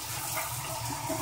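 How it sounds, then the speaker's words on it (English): Water sprays steadily from a massage shower head with several massage settings, a brief, even hiss of running water close by. "So the water looks like it's going straight, but it's really not. It's massaging."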